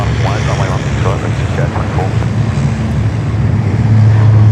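A small Saab aircraft at Sydney Airport gives off a loud, steady engine drone with a low tonal hum that swells slightly near the end, while voices talk over it throughout.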